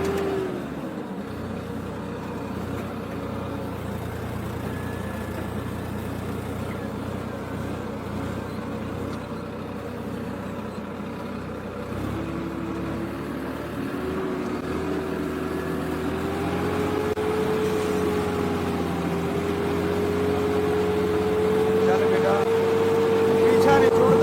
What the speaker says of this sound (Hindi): थोड़ा मोड़ लें ट्रैक्टर